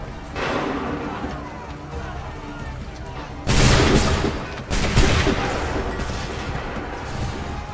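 Volleys of rifle gunfire from Detroit: Become Human, two loud bursts of shots crashing over a rumbling battle backdrop, with shouted commands heard around them.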